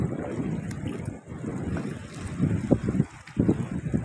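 Rushing sea water and waves wash around at Gopalpur beach, mixed with gusty wind buffeting the microphone, growing choppier and louder toward the end.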